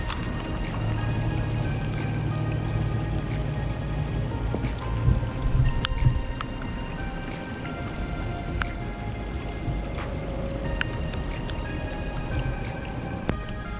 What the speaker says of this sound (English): the rain just picked back up